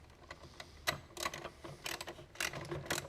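A ratchet tightening a bolt on a Mazda 3 master cylinder gives quick bursts of close, crisp clicking with short pauses between strokes, and no talk.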